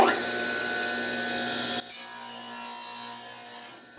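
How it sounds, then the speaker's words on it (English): Power saw cutting a 25.5 inch guitar fretboard, giving a steady high whine that shifts pitch partway through as the blade bites into the wood, close and loud. "Turn my saw on."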